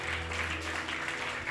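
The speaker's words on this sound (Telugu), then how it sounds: "మీరు కొట్టరు చప్పట్లు" Church congregation breaking into a short burst of steady applause, a dense wash of many hands clapping at once at moderate distance.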